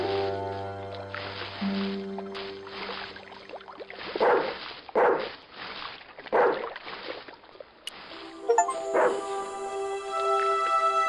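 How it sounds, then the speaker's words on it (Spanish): Dog swimming in the video game Broken Sword 2 gives a series of short yips and whimpering barks, several distinct bursts in the middle over soft background music and ambient tones. "Como esperaba, el perro nadaba como un... bueno, como un perro."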